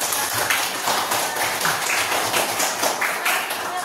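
A classroom full of students clapping together, dense and brisk, lasting a few seconds.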